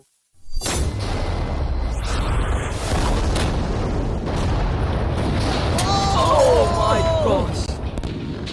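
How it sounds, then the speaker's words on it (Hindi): A loud, sustained roaring blast with rumbling low end that continues for several seconds, with faint whistling tones rising near the end. "तेज धमाका था।"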